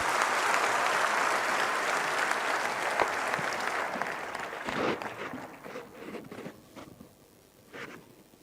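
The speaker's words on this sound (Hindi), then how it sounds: "एक बार फिर से जोरदार तालियां" Audience at a government appointment-letter ceremony in Panchkula applauding, a dense wash of clapping that gradually thins and fades into scattered claps toward the end.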